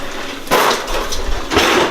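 A steak turns over in a hot grill pan, giving two or three brief clatters and a short scraping sizzle, close and fairly loud with no voice over it.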